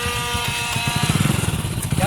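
A motorcycle engine runs close by with a pulsing, throbbing low rumble that quickens toward the end, with voices talking over it.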